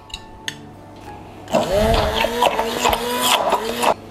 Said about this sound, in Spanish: Ahora ponemos todo dentro de un vaso y trituramos